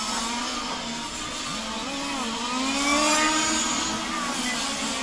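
High-pitched whining motors of several large-scale RC touring and F1 race cars rise and fall as they speed past at over 50 mph in a race final, a continuous loud buzz with no talking.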